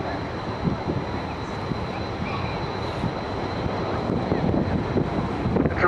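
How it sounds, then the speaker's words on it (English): Boeing B-17G bomber making a final flypast with display smoke on at an airshow, a steady distant rumble of multiple piston engines mixed with wind buffeting. "this final pass with smoke on to simulate a damaged engine"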